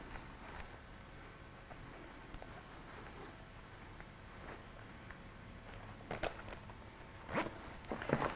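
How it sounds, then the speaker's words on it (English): A zipper drawn shut along a side pocket of a rugged modern duffel bag, giving a few quick close rasping pulls over a soft rustle of fabric, with no talk. "let me zip this back up so it's easier to kind of"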